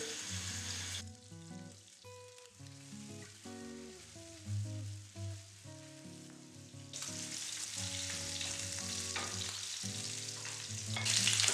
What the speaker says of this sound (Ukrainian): Першим ділом буду обсмажувати бочок.